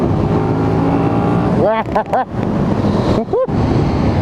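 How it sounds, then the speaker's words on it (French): A loud 2017 KTM Super Duke 1290 twin-cylinder engine roars steadily, its pitch sweeping up and down as the rider works through gears, with wind buffeting underneath. "c'est une moto qui a un énorme moteur rempli"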